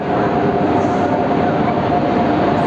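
Kaziranga Express train at Bardhaman station platform 2, a continuous loud rumble of railway cars rolling past, steady throughout with no breaks.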